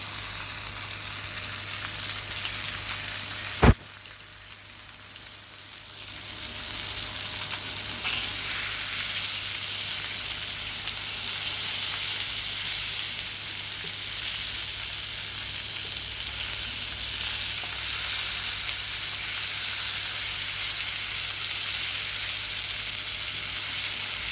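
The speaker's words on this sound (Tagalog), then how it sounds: "Hindi ko siya pinirito sa oil. Pinirito ko siya sa margarine." Mackerel frying in margarine rather than oil, giving a loud, steady close sizzle and hiss that carries on for the whole stretch after a single sharp click near the start, with no voices.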